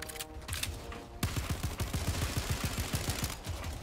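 Video game gunfire in rapid bursts, a fast rattling volley of close, loud shots that fires continuously after a brief quieter lead-in.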